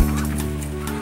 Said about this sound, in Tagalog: meron din siya ditong mga alagang bibi